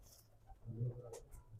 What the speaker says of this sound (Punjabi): ਆਪਣੀ ਨਸਲ ਬਣਾਈਓ ਕਬੂਤਰ ਮਿੱਡੂ ਮਾਨ ਵਾਲੇ ਮਤੇ ਦਿਖਾ ਦਿਓ ਜੀ